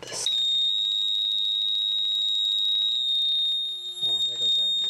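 A Wheelock 7002T fire alarm horn strobe sounds during a full system test: a loud, steady continuous high-pitched electronic tone that holds unbroken for nearly five seconds, with voices talking near the end.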